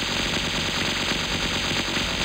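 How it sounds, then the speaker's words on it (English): Rapid continuous gunfire and explosions from a Vasara Collection shoot-'em-up game on Nintendo Switch, a loud, steady barrage with no pauses. "Oh my god, that's a lot of explosions."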